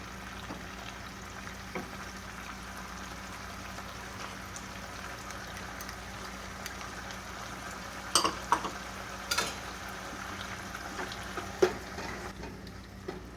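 Tomato with ginger-garlic paste fries in a pan for Andhra crab masala, a faint continuous sizzle with a few scattered clicks and stirring taps, close and quiet.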